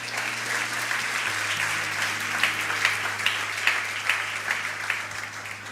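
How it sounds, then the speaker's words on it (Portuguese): Church congregation applauding during a worship service, a steady wash of many hands clapping with a low sustained organ or keyboard tone underneath, moderately loud throughout. "Aplaudimos ao Rei."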